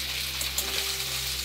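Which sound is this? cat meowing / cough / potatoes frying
potatoes frying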